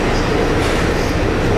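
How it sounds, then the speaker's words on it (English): Walt Disney World monorail at Epcot gliding along with a steady, continuous rumble and rail hum throughout, voices faintly mixed in. "Taking the monorail around because our feet hurt."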